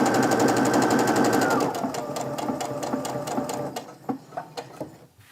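A sewing machine stitching quilt rows of 60-degree triangles, running at a steady fast whir up close, then slowing into separate, distinct stitch knocks before stopping.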